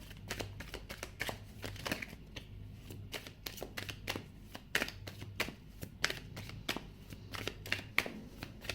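Tarot cards being drawn and shuffled by hand, a steady run of quick papery riffles and soft snaps, close and fairly quiet, with no voices.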